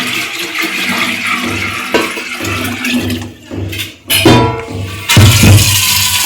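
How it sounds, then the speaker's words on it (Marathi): Water is poured out of a clay drinking pot in loud, close splashing gushes that pause and restart several times, with a gurgling rush toward the end. "असं सगळं पाणी ओतायचं आहे."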